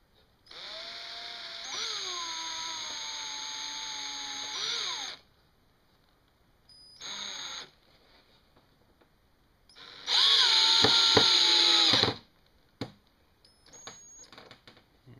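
A power drill drives screws into wood while building a top-bar beehive, with three separate whirring runs of rising and falling pitch, the last one the loudest. Close and alone, with brief clicks and silence between runs.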